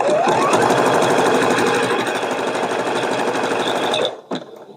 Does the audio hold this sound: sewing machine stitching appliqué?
yes